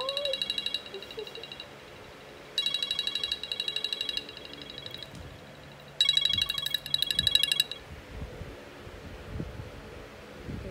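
A repeating electronic alarm rings in three loud bursts, then stops, with faint movement and quiet voices in between.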